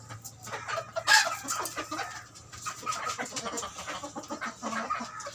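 Hens cluck around a laying cage, with close, irregular clucks and one sharper squawk early on, over a low background hum and no talk.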